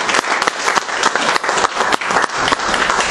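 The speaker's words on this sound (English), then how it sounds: "give them a round of applause" A small audience at a music event applauds loudly and close for a few seconds, a bright, dense burst of clapping with no gaps.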